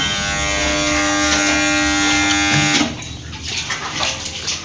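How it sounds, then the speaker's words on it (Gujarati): An electric water pump motor hums steadily with a constant buzzing drone while a tank fills, then cuts off abruptly partway through, leaving quieter background sounds behind. "પાણી ભરાઈ ગયું છે એટલે મોટર બંધ થઈ રહી છે"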